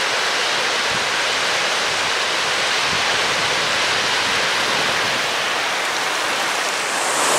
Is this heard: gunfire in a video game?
no